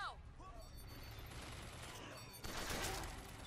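Gunfire in the BioShock Infinite shooter game, rapid shots rattling in a dense sustained volley that swells into a louder burst toward the end, heard faint and without talk.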